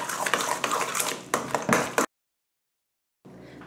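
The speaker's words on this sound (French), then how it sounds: "et je mélange." Mashed potatoes being mixed with eggs and pepper in a bowl while preparing a gratin. Close, busy scraping and clattering of a utensil runs for about two seconds, then cuts to silence before faint sound returns.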